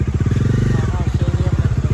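A motorcycle engine idles close by with a steady, rapid low thumping pulse near a metro station parking area.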